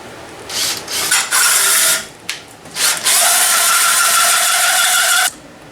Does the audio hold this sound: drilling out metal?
yes